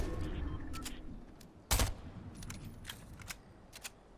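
Bursts of gunfire in the video game Fortnite Chapter 3: scattered quiet rapid shots with one louder sharp crack near the middle, heard against low background game sound.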